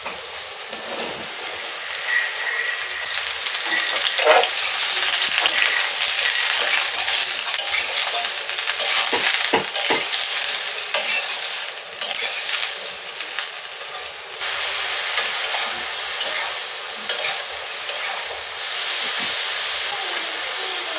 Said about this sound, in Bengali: প্রথমে মাশরুমটা ভেজে নেবো